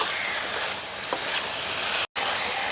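Potatoes and pointed gourd sauté with spices in a pan, a steady close sizzle with soft stirring scrapes, broken by a brief dropout near the end.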